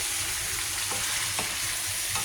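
Chicken sinigang is stirred in a pot, with a steady bubbling simmer and a few soft utensil scrapes against the bottom, moderately close, with no voices.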